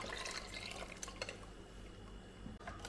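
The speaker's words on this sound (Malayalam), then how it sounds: "ഇതെല്ലാം കൂടെ നല്ലപോലെ അരിച്ചെടുക്കാം" Ground bilimbi paste mixed with its cooking water being strained, with soft trickling, dripping and pouring liquid close by, low in level and continuous, with no voices.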